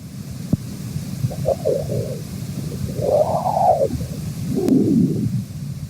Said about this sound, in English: That's a young solar wind being born in the plasma around the sun.